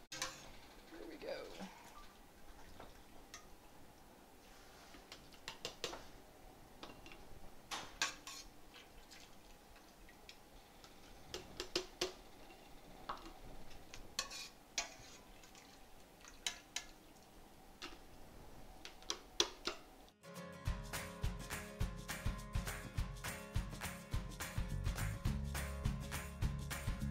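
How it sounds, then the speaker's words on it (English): A slotted spoon scooping vegetables out of minestrone soup and dropping them into canning jars, with soft irregular clinks and taps close by, then a steady hum and mechanical noise in the final seconds. "we're gonna use a slotted spoon to dip out the vegetables from our soup and then divide it evenly into our 7 jars"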